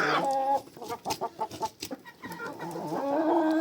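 Several feeding chickens cluck close by in a busy, overlapping chorus, with short bursts of clucks in the middle and longer calls at the start and end.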